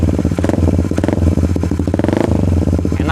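A motorcycle fitted with a KTC throttle and switch runs close by, its engine chugging in a rough, rapid idle with repeated throttle blips and clattering mechanical noise, loud and continuous.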